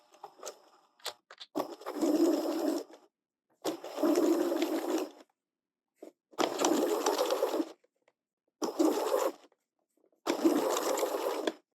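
A sewing machine stitching fabric for a caterpillar soft toy, running in five separate bursts of fast, steady whirring and needle chatter, close and loud, with silent pauses between runs and no talking.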